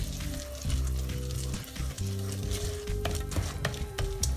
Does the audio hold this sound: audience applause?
no